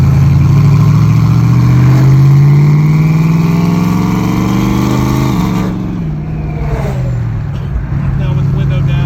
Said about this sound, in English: Now with the window down, you'll hear it a little bit more. But again, very palatable as far as the exhaust note, I think.